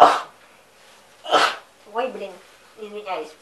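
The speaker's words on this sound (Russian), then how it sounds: "все-таки я чихну" A woman gives two sharp, close sneezes in quick succession indoors, then speaks briefly right after them.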